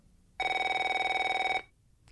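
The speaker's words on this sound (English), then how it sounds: "let's see what happens when the phone rings and it's the wrong number" A telephone bell rings once in a single sustained electronic trill lasting just over a second, clear and close, then stops into quiet.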